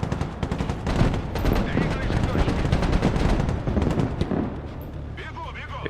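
Gunfire and explosions in the real-time strategy game Broken Arrow during a multiplayer match, a dense loud barrage of rapid shots and booming blasts that thins out near the end.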